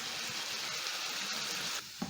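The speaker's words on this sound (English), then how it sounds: "I'm going to cook until my potatoes are crisp" Potatoes crisping in a single layer in a pan give a steady, close broadband sizzle that runs evenly before dropping away near the end, with a small clink at the finish and no talking.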